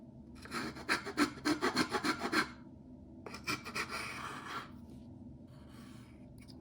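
Sandpaper rubbing over the wooden deck planking and bulwark of a Fram model ship, a quick run of rhythmic scratchy strokes followed by a couple of longer, softer passes, close and alone.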